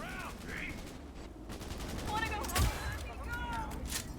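Gunfire in the video game Cyberpunk, quick bursts of shots at moderate level with one sharper blast near the middle, set over a steady game soundscape while a voice talks.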